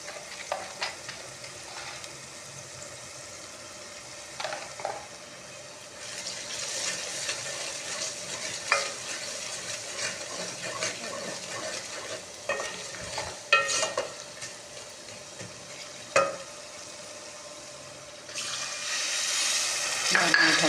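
Aloo matar gajar mixed vegetable sabji being stirred in a pan, with repeated spoon scrapes and clatters over a soft sizzle and a brief gush of water, and no talking.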